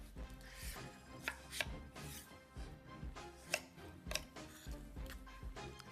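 A knife cuts peeled mango into small pieces on a board for a pavlova, giving irregular close knocks and taps, some sharper than others, with faint handling noise between strikes.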